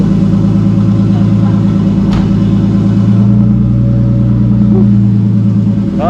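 A Nissan Cefiro A31 with an RB25DET engine and a freshly welded new exhaust rumbles loudly and steadily up close, a deep droning tone that swells slightly, with no speech over it.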